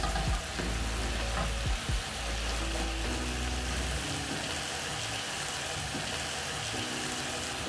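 Sausages seasoned with black pepper and salt frying in a pan, a dense steady sizzle with a few early spatula knocks, close and without talk.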